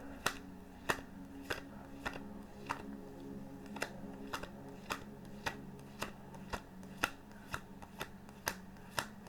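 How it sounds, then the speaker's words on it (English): Tarot cards are shuffled by hand in quiet, crisp riffling bursts that repeat at a steady rhythm, about a dozen sharp flutters in a row. "And then I like to shuffle them again."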